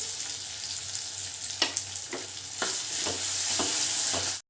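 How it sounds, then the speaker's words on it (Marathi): Field beans (pavta) fry in hot oil with a loud, steady sizzle close by, broken by several sharp spoon scrapes and taps against the pan before it cuts off abruptly. "मी हा पावटा टाकते व्यवस्थित तेलामध्ये छान असं भाजून घ्यायचं आहे"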